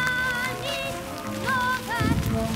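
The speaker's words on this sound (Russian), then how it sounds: "Это снег и град одновременно." Snow and hail fall together outdoors, a steady dense patter with a stronger burst near the end and wavering tonal sounds over it.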